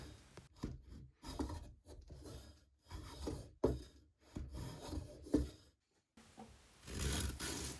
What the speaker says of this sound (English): I take my block plane to scrape off the excess wood on the side.